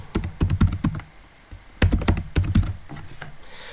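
A computer keyboard is tapped in two quick bursts of keystrokes, crisp close clicks with a short pause between the runs, as a password is entered.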